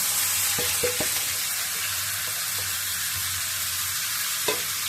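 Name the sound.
pulao rice with spices frying in oil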